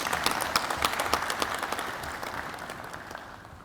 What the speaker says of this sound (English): but yes, you are clapping